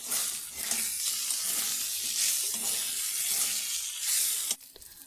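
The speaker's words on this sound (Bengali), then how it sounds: "এবারে আমি ভেজে রাখা পটল আর আলুগুলো দিয়ে দেব" Fried pointed gourd and potato pieces drop into hot oil with spices, making a loud, continuous close sizzle that cuts off abruptly near the end, with no voices.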